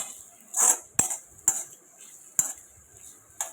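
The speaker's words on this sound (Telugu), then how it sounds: "వేసుకొని బాగా కలుపుకోవాలి." A spoon clatters and scrapes repeatedly against a pan while chilli potato fry is stirred with tomato ketchup, green chilli sauce and vinegar, giving several sharp metallic knocks over a soft sizzle.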